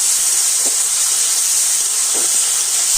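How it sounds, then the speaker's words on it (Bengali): Tomato frying in oil with whole cumin, a loud, even hiss of hot oil holding steady throughout, with two faint soft knocks, no talk. "সেই তেলের উপরে টমেটোটা আমি একটু ভেজে নিয়েছি"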